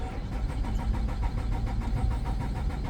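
A 2013 Nissan Altima engine cranking without starting, a rapid rhythmic starter-motor chug repeating steadily for about three seconds, close and moderately loud.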